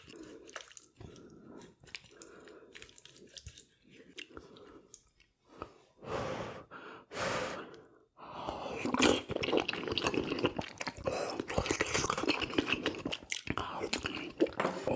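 Close, wet chewing and biting of tuna kimchi stew at a Korean meal with pork stir-fry and grilled mackerel, with soft crunches, squishes and audible breaths, alone and fairly loud throughout.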